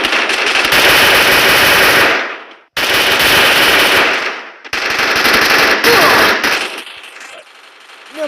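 Rapid automatic gunfire from weapons in a first-person shooter video game, loud sustained bursts of machine-gun fire broken by short pauses, close and dominant, with faint game sounds in the gaps.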